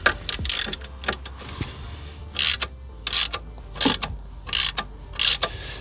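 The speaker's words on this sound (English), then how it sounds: "I got the 14 mil that goes on here. Loosening the alternator for the" A 14 mm ratchet wrench works an alternator bolt on a 1985 Merkur XR4Ti, giving repeated bursts of sharp ratcheting clicks in short uneven strokes, close and fairly loud, with brief pauses between them.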